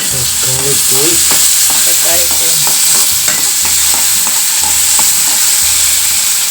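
Tomatoes going into a loud sizzling pan and stirred, steady frying hiss with repeated scraping spoon strokes throughout, no talk.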